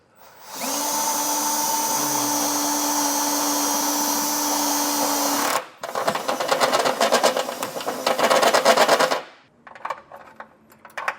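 A power drill bores a hole through the steel frame of a 2020 Subaru Forester during a trailer hitch install: a loud steady whine for about five seconds, then a rougher chattering grind as the bit bites, stopping and restarting briefly.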